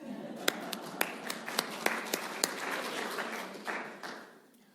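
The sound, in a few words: congregation clapping in church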